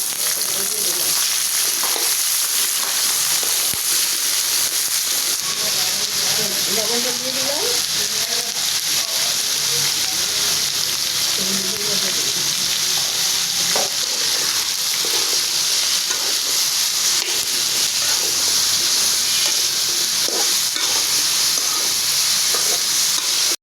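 Onions and green chilies frying in hot oil, a loud continuous crackling sizzle up close, broken by occasional stirring scrapes and clanks of a utensil against the pan throughout.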